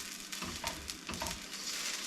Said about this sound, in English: And just keep stirring it in your oil. And you can hear it sizzling.